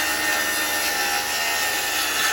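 A saw cuts through wooden 1x2 boards in a steady, loud, rasping stroke that holds without pause, close up and with no talking.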